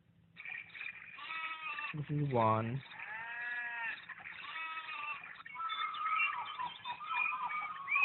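Sheep or goats bleat among other farm animal calls played from a CACHOR sunrise alarm clock, a loud wavering bleat standing out, with a person speaking over the tinny, layered sounds.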